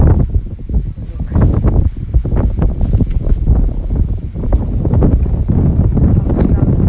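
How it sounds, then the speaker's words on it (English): Strong night wind blowing down from the mountains roars steadily against a third-floor spot, buffeting and rustling in constant gusts with heavy low rumble, loud and close throughout. "you can hear the sound of the wind"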